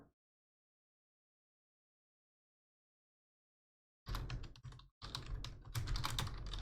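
Rapid clatter of typing on a computer keyboard, loud and close, in two dense bursts after about four seconds of silence, with a short pause between them; no voices.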